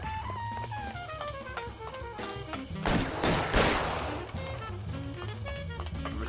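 Gunfire in L.A. Noire, a short cluster of loud cracking shots in the middle over a steady musical game score, close and brief.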